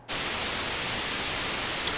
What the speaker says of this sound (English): I got some white noise and I recorded it, and I'm going to play it now